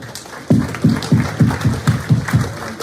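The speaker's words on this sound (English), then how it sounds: "Round of applause," A small group applauds at a live property investors' meetup in Sydney. The claps come close and distinct in a steady, even rhythm, starting after a short quiet moment.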